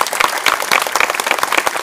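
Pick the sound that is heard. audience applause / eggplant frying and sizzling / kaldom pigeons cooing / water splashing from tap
audience applause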